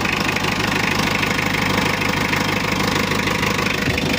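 A Mitsubishi L300 van's engine, freshly fitted with a new 12mm rotor head and running with a poor-sounding exhaust, idles and revs with a loud, steady knocking diesel clatter close by.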